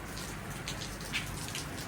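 Rain falls during a tropical Top End storm near Dundee Beach in Australia, a soft, steady patter of drops on surfaces with no voices.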